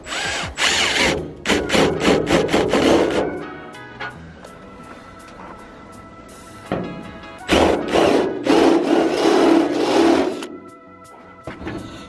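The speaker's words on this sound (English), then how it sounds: "we're just gonna drill it from the top." A power drill whines in bursts through car hood metal while fitting hood pins, with short pauses between runs and a couple of longer, loud drilling stretches.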